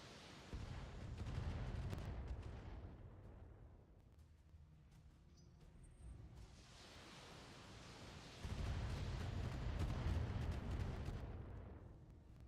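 Heavy weapons fire and explosions from the mech combat game BattleTech, rumbling in two long loud waves with a quieter stretch between, no voices.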